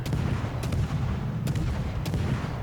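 Warship guns in the World of Warships naval combat game boom over a constant low engine and sea rumble, with a few sharp distant shots spaced about half a second apart.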